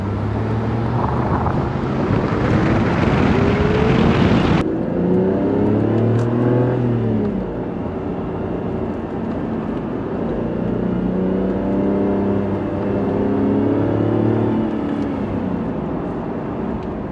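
An Aston Martin DB7 Vantage's V12 revs hard and loud, climbs, drops back and then swells again through several sustained pulls with a rising and falling engine tone and no talking.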